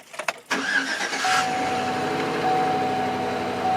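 A 2007–2013 Chevy Silverado pickup cranks briefly, then its engine catches and settles into a steady, close idle after a battery swap to a 700 cold-cranking-amp battery.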